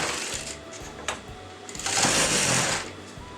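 A sewing machine stitches the outer part of a front-opening kameez jacket in short bursts, then a longer, louder run near the end, heard up close.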